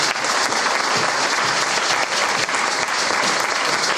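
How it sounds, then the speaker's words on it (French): A church congregation breaks into loud, sustained applause for pastor Joseph, a dense and steady wash of clapping from many hands filling the room. "Je veux que tous ensemble on se lève et qu'on acclame pour notre papa, le pasteur Joseph."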